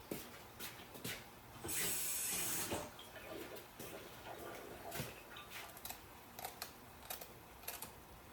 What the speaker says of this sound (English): Add a couple of okra, so I'm gonna wash these off.